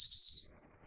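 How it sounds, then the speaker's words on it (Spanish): Japanese cicada: a brief, high buzzing trill that fades out within half a second, leaving near silence. "Si algún día van a Japón y escuchan esta cigarra"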